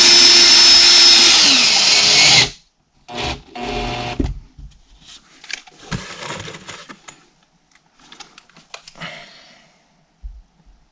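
A power screwdriver drives a screw into plasterboard being mounted on a wall, giving a loud steady whine of about two seconds that ends abruptly, followed by scattered handling knocks and rustles.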